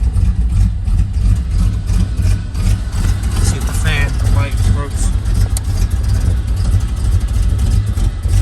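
A third-generation Camaro engine idles with a steady low rumble throughout, a person talking briefly over it midway.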